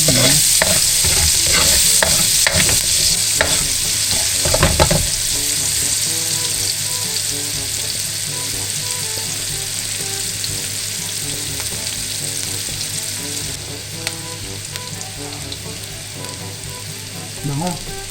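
Onions hitting hot oil in a pan give a loud, dense sizzle, with a burst of stirring clatter at first that settles into a continuous crackling fry, no one talking.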